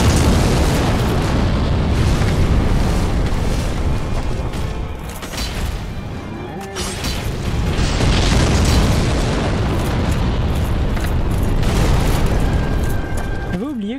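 Giant Tarkas's grenades exploding in the video game Dark Souls, loud booming blasts and crackling bursts in quick succession filling the scene, with someone speaking French over the din.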